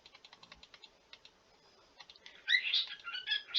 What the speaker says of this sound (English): I apologise if you hear my bird squeaking in the back